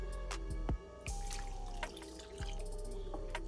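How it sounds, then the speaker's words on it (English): Water poured into a pot of Trinidadian stewed red beans, a close trickling splash with a few clunks of the container against the pot, fairly quiet and brief. "And now I'm going to add in my water."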